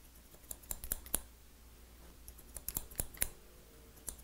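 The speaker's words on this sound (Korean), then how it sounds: "싱글링하고 이제 가위로 하는 거죠." Scissors snipping hair during an elderly man's short crew cut, working up from the bottom: sharp, irregular clicks and snips, some close and crisp, scattered through a quiet room with no talking.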